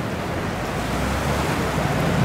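Waves washing onto the beach at Hulhumalé in the Maldives, a steady broad rushing surf with some wind noise on the microphone, constant and fairly loud throughout.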